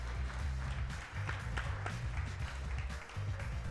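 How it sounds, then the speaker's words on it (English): An audience at a live clubhouse event claps steadily throughout, a dense continuous patter of applause with no voices standing out. "How about a round of applause for all of our online viewers?"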